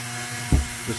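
A rotary grinder ports the exhaust port of an Echo 670 chainsaw, a steady high motor whine running throughout with a brief louder burst of bite midway and a softer one near the end.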